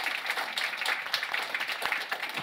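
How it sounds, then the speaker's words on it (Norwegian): At a book launch, an audience in a room gives brief, steady applause of many hands clapping together at moderate volume. "Kanskje en liten applaus der."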